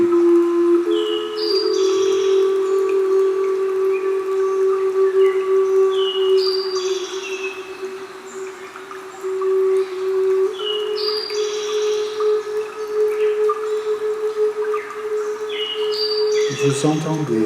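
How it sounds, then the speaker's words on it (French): Birds chirp and warble in short, scattered calls over a steady low drone, continuing for the whole stretch. "des bruits d'oiseaux parcourir la pièce dans laquelle vous êtes"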